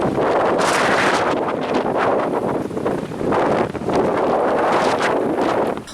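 Strong gusty storm wind with gusts reaching 20 metres per second, buffeting a microphone in loud surging roars that rise and fall over several seconds, with no voices.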